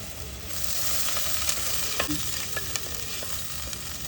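Dried lakkha fish frying in a pan, stirred with a utensil: a steady close sizzle, a few sharp scraping clicks against the pan, and no voices.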